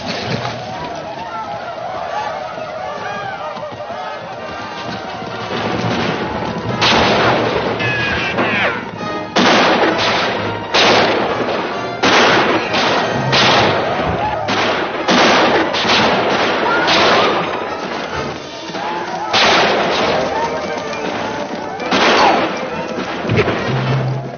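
Battle scene from a 1955 western film, with heavy, repeated gunfire cracking and booming in clustered volleys over a dense background of battle noise and shouting voices.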